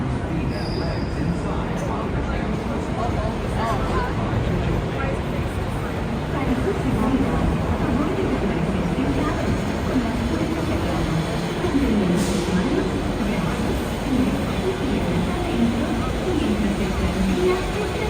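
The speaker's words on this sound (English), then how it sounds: "This tram is getting ready to depart." A Disneyland tram moves off with a steady rumble of wheels and running gear, broadband rolling noise holding constant throughout, with faint voices mixed beneath.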